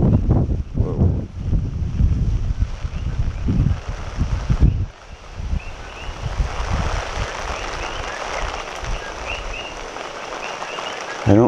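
Rainy, windy weather at dawn during Hurricane Lane in Hawaii, with heavy rumbling gusts buffeting the microphone, easing halfway through into a steadier hiss of rain and wind, no talking.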